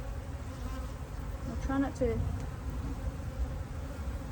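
Honey bees hum steadily in a top bar beehive, a continuous close drone that runs throughout while a person speaks briefly over it.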